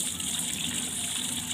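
Water runs steadily from an outdoor tap as a monkey blocks the flow, giving a constant soft rush at moderate distance with no pauses.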